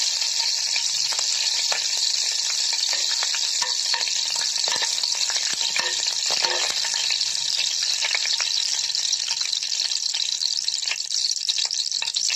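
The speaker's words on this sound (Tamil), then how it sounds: "சோம்பு நல்லா பொரியட்டும்." Fennel seeds fry in hot oil with a steady, close hiss and dense crackling sizzle that continues evenly throughout.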